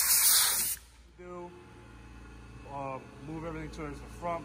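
Compressed air blasts loudly into a vehicle compartment to clear debris for a short burst, then cuts off, followed by a person talking over a quiet background hum.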